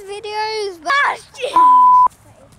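A sharp electronic censor beep lasting about half a second cuts over speech in a home vlog, with a voice talking just before it.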